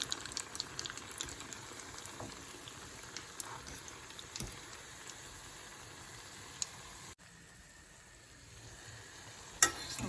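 Steady, soft sizzling of pampushky dough frying in a hot pan, continuous throughout with a few faint clicks.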